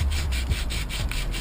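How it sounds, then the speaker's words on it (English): A kettlebell handle is rubbed by hand with fine grit sandpaper in short, regular back-and-forth strokes, close and scratchy, with no voices. "just go ahead and sand the handle down"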